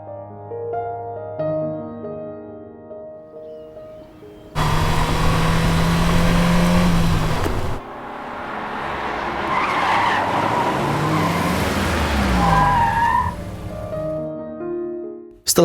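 Race car built from a salvaged tractor accelerating hard and skidding on a test drive, a loud burst of engine roar followed by sustained tire squeal and screeching slides, with no talk.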